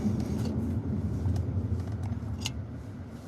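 Car engine intake drone from inside a moving car, a steady loud low rumble with a few faint clicks over it and no talking.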